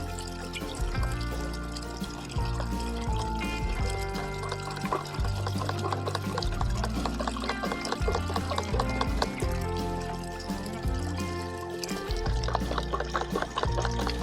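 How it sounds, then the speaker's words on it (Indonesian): Liquid fertilizer for rice paddies poured into a sprayer tank, a steady continuous gush and splash running loud and close for the whole stretch with faint background noise. "Oke, kita masukkan ke tangki dulu ya."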